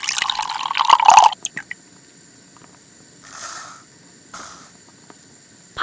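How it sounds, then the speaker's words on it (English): A short, bright burst of water poured into a miniature cooking pot lasts about a second, followed by a few small drips and faint hissy swells in otherwise quiet surroundings. "Water."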